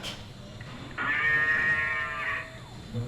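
A Holstein cow statue at a winter festival in Lake Geneva lets out a recorded moo when a button behind its ear is pressed: one sustained tonal low call of about a second and a half, near and clear, with no talk over it.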